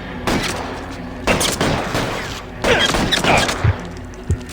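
Gunfire in the L.A. Noire video game on Switch, several bursts of rapid shots in quick volleys with short gaps, loud and close, no talk over them.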